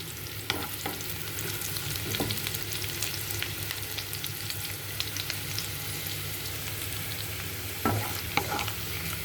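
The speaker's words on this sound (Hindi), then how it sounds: "बस ट्रांसलूसेंट करने तक भूनेंगे इसको" Onions frying in a pan for kadhai paneer, cooked until translucent, give a continuous soft sizzle with occasional stirring scrapes and clinks, close and steady with no talking.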